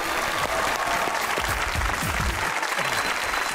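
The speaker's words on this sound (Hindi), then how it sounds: "तालियां बजाएंगे because I have Nabeel Zafar" A studio audience at a Pakistani comedy talk show claps steadily as an actor guest is welcomed, a dense, continuous wash of applause with no voice over it.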